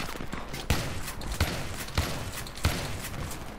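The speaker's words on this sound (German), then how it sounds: "Ich einfach mal ein bisschen random mit der Wand schießen" Shotgun blasts from a Spas-12 in Battlefield 3, fired at a wall: four loud, evenly spaced booming shots over a steady bed of background game noise.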